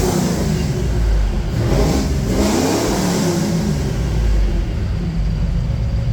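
A 460 EFI engine with a stage 2 cam and single 3-1/2 inch Flowmaster exhaust rumbles loudly and steadily up close, a continuous deep throaty drone with slight revving swells and no talking.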